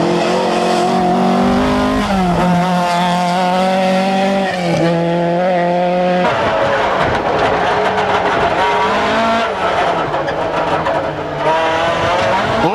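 A 1990 Opel Manta rally car at full power on dry tarmac, its engine roaring loud and close as it revs hard through the gears, with shifting pitch and tire squeal.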